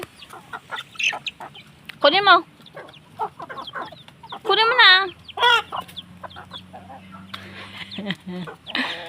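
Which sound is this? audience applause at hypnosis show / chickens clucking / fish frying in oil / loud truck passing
chickens clucking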